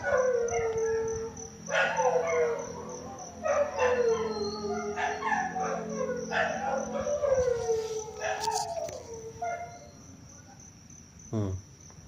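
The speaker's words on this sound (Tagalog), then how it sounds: "Ganyan lagi yung aso na yan. Pagsapit ng alas 3, umaalulong." Dogs howl together at three o'clock in drawn-out, sliding wails that overlap, then fade and stop, over a constant high cricket-like buzz in the background.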